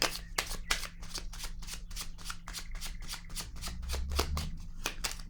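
A deck of tarot cards being shuffled in rapid, steady riffles close by, a quick run of crisp papery flutters repeating throughout, with no talk over it.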